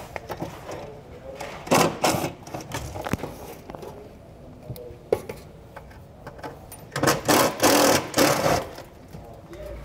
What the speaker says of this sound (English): We're gonna use our 10 millimeter socket to remove the nuts.